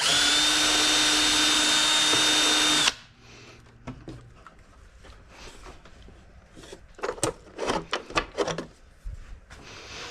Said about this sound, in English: So I got my 4mm drill in there.